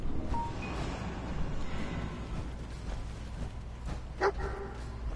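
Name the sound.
dog barking in the video game Fallout 4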